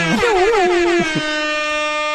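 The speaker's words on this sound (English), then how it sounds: "Air horn." A loud, brassy air horn blares in a short wavering burst, then holds a steady blast before cutting off.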